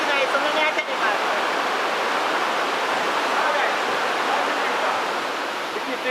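River water flowing in Jamaica, a loud, steady broadband rush like a waterfall or fast stream, close and continuous throughout.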